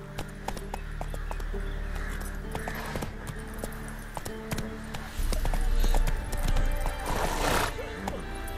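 Horse galloping in The Witcher 3 video game, rhythmic hoof clip-clop with jingling tack and a neigh, close and steady, mixed with battle noise.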